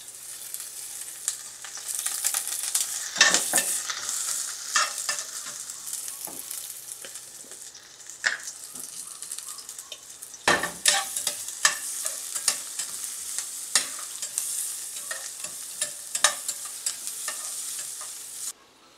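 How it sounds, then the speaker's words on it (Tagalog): Chicken pieces hiss and sizzle in a little cooking oil alongside carrots and potatoes for pininyahan, a steady bright frying hiss broken by repeated scraping stirs and a sharper clatter near the middle, close and fairly loud with no talking. "gisa na tayo dito para sa ating chicken"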